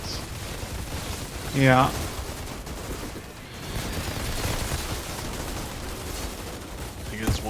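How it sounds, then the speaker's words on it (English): A heavy barrage of rapid gunfire in the co-op shooter Outriders, with bullets rattling continuously in dense volleys alongside blasts, as a voice speaks briefly. "There's a lot of bullets."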